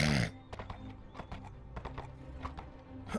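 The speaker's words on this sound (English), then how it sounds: "Spread the horses out like we dismounted in a hurry." Horses in a VRChat roleplay scene neigh while hooves clop in an uneven, close rhythm, with a brief burst of noise at the start and no talking.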